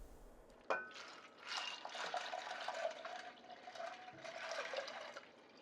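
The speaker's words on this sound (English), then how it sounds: "Now pour in 2 cups of water." Water pouring into a saucepan of dry garbanzo beans on a stovetop, a close splashing stream with a sharp start, steady filling and a brief interruption before it continues.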